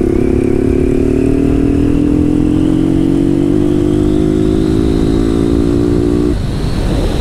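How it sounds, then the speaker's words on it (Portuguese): A motorcycle converted to run on diesel, a Honda Twister Flex, revs steadily with a rising engine tone that holds loud and close for about six seconds before dropping off, with no talking. "Potência da moto"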